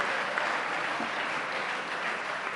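Audience applause in a hall at a Hindi comedic poetry performance: a steady, dense wash of clapping that holds for the whole stretch without a break.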